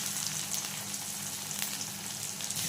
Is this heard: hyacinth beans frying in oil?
yes